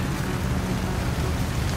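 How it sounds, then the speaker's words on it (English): Rain falls steadily in the video game No Man's Sky, a dense, even wash of hiss with a low rumbling undertone. It is continuous and fairly loud, with no voices. "Oh, it's raining."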